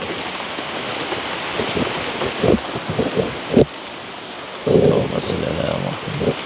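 Steady rain falls outdoors in a broad, even wash, with a few louder bursts and splashes of drops hitting surfaces; voices murmur faintly underneath.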